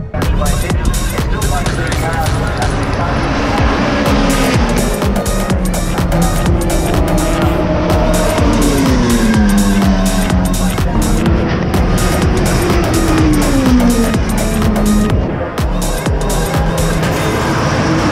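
Race cars drifting at a time attack motorsport event scream past continuously, engines wailing with rising and falling pitch and tires screeching, loud and close, with crowd noise underneath.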